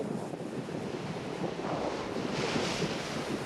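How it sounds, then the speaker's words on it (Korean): Rough winter sea waves crash steadily along the East Sea coast near a snow crab fishing village, a continuous loud roar of surf with wind buffeting the microphone and no voices. "먼 바다에서 밀려오는 파도가"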